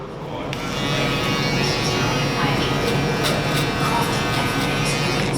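A buzzing electric finishing shaver works steadily and close up through a skin fade haircut, its motor holding a continuous whine for several seconds without pause.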